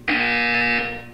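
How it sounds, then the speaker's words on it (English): A loud, steady electronic buzzer from the video game Portal 2 sounds once for about a second, harsh and tonal, then cuts off, with no talk over it. "You will hear a buzzer."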